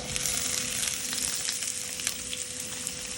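Tricolour bell peppers frying in a little hot oil, a dense continuous sizzle, close and steady throughout with small pops.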